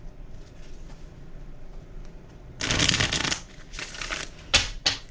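Tarot cards being shuffled by hand in short riffling bursts that grow louder near the end, with no talking over them.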